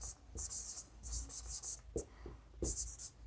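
Chalk or marker writing a definition on a board in a classroom: short scratchy strokes come in bursts with brief pauses and a few soft taps, faint and close, with quiet breathing in the background.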